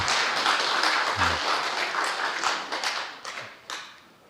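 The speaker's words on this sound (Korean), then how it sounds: "박수 부탁드립니다" A church congregation applauds after an offering announcement, steady dense clapping from many hands that thins and fades out toward the end, with a few murmured voices.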